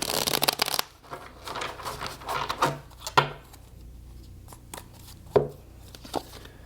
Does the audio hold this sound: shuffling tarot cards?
yes